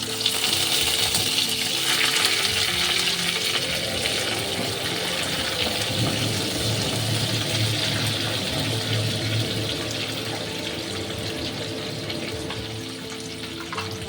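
Half a large onion and curry leaves hitting a hot pan, giving a loud, continuous hissing sizzle that holds steady throughout and fades slightly toward the end.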